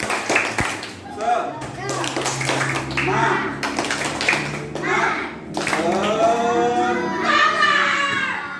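Schoolchildren in an Indonesian classroom perform a rhythmic spirit clap in bursts of patterned claps, chanting along together, with a teacher's voice leading between the rounds.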